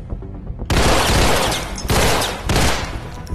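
Three loud bursts of rapid video-game gunfire from a three-round-burst weapon in the VR shooter Dead Second, evenly spaced, each a short rattling volley of shots with no talking.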